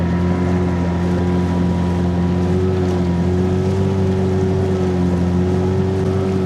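Steady roar of a motorboat's outboard engine under way on windy water during a fishing outing, a close, constant droning hum with layered tonal whine and gusty wind buffeting the mic.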